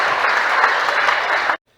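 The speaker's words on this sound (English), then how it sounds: "Give yourself a round of applause." Audience applause at the end of a group humming and namaste session, a dense steady burst of many hands clapping together for about a second and a half before it stops abruptly into silence.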